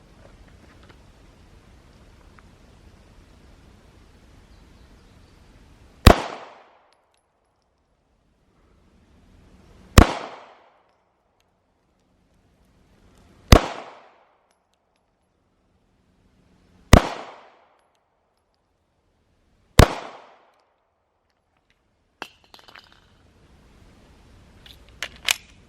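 Handgun shots at an outdoor target range, five sharp, loud cracks spaced a few seconds apart, each with a short ringing decay, followed by faint clicks and handling noise.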